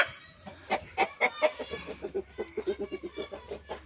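A backyard flock of Adler roosters and laying hens clucks nearby, sharp irregular calls at first giving way to a rapid, steady run of clucks over a low background drone.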